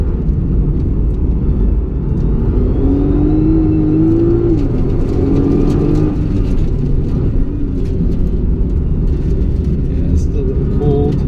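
A Nissan GT-R NISMO accelerates around a figure-eight track on cool tires, its engine a loud continuous drone with rising pitch sweeps, while someone talks over it.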